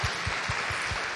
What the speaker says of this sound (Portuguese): demonstrando a Ele através de uma linda salva de palmas na igreja